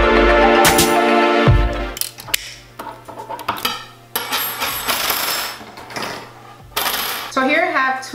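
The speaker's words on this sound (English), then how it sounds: "I'm going to just grab my pliers and I'm going to pull them open, and I'm just going to take these two out." Pliers open wire links and remove glass chandelier crystals, giving bright, close clinks and jingles, metallic snaps and scraping handling noises in short bursts with brief gaps.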